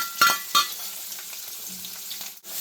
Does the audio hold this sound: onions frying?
yes